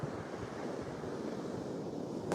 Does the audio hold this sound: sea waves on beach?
yes